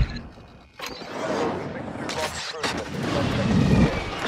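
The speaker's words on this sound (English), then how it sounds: "Enemy precision airstrike. Find cover." Precision airstrike explosions in Call of Duty: Modern Warfare II multiplayer: several heavy, close booms arrive in quick succession over a continuous roar of rumbling battlefield noise, with faint voices buried in the din.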